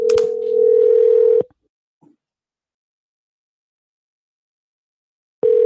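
Telephone keypad tones sound during an automated voicemail call: a steady, loud electronic tone, a short faint blip after it, then silence before another tone cuts in at the end.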